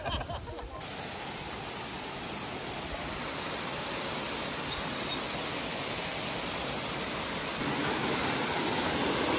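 The monsoon-fed Kasarwadi waterfall in Radhanagari pours in a steady, broad roar of rushing water that stays constant throughout and swells slightly louder toward the end.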